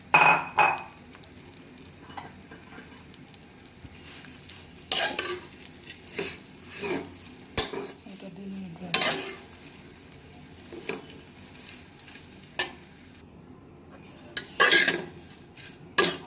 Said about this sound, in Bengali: সুন্দর করে ভাজছি আরেকটা আরেকটা ভাজবো